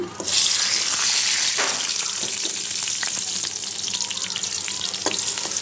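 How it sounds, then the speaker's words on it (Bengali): Onion and bay leaf fry in hot oil in a pan for a fish curry, giving a loud, steady hiss with scattered sharp crackles and pops close by, and no voices. "পেঁয়াজ আর তেজপাতা একটু ভেজে নিব একটু ভেজে নিলাম"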